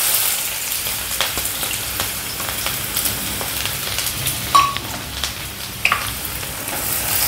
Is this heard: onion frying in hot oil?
yes